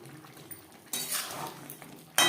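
Fried potato and cauliflower pieces go into a pan of masala, giving quiet clatters and clinks of utensil against pan and a brief rustling scrape, close and short, with no voices.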